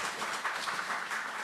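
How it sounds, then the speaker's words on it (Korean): Church congregation applauding during a Wednesday worship service, a brief, soft burst of many hands clapping in a steady patter, fairly faint and with no talk over it. "다시 한번 우리 하나님께 박수를 영광 올려드립니다."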